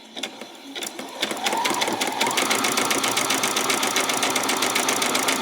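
A sewing machine runs a zigzag stitch along a fabric edge of a peasant top, starting with a few irregular stitches and then settling into a steady, rapid, continuous mechanical whir with a fine rhythmic clatter, close and fairly loud.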